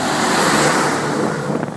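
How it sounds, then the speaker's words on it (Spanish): Loud, roaring noise of heavy trucks rushing past very close on a road with no shoulder, with strong wind buffeting; no voices. "Camiones pasando muy cerca,"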